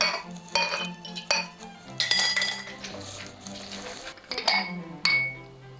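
Ceramic dishes and metal utensils clink and clatter in a kitchen while French toast is prepared, with several sharp knocks and rattles spread across the moment, close and fairly loud, no talking.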